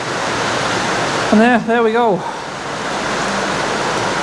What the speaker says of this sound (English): It's raining pretty hard at the minute, so I do apologise about the noise if you can hear it.